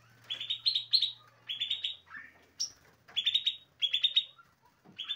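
Cucak hijau and cucak ranting birds in a mini aviary give bursts of bright, rapid chirping phrases, repeated about five times with short pauses between them. The birds sound close and clear, with no talk.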